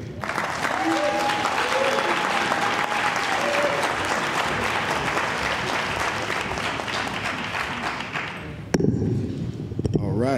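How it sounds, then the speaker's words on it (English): An audience at a reception breaks into loud, sustained applause to welcome someone to the stage. The clapping runs unbroken for about nine seconds, then stops abruptly with a few clattering knocks. "I would like to welcome to the stage Mr. Speak Williams"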